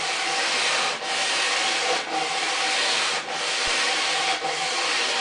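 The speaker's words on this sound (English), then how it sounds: "We'll touch it up with just a little sanding." Steady back-and-forth strokes of sandpaper wrapped on an MDF block rubbing across a wooden table leaf, close up, in even rhythmic passes with brief pauses between them.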